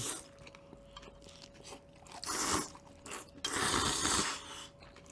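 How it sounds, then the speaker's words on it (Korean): Crisp, crunchy chewing of a cabbage pancake close to the mic, coming in bursts of bites with brief quieter pauses between them. "소리가 아삭아삭해"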